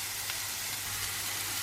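Vegetables stir-frying in a hot pan for a Chinese dish, a steady close sizzle and hiss of frying with faint stirring, alone without talk.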